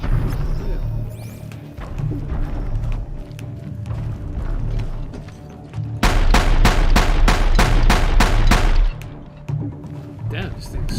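A heavy weapon in Horizon Zero Dawn unleashes a loud, rapid-fire volley of a dozen or so punchy shots over about three seconds, set among rumbling game noise and someone talking.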